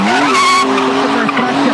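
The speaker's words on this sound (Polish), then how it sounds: "To już jest drift w mistrzowskim wykonaniu." A BMW E36 Touring drifts at a motorsport drift competition day, its tyres squealing in a loud, sustained screech over a revving engine whose pitch wavers and dips, heard close up.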